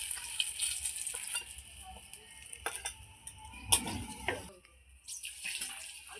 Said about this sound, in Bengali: ঠিক আছে, বেগুনগুলো তুলে দিচ্ছি ভাজা